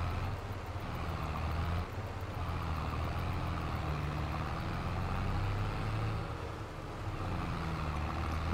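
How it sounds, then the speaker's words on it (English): A small tractor engine in Farming Simulator 22 drones steadily at low pitch, a continuous close hum with slight fluctuations and no talk. "I like this little tractor. It's a nice little tractor."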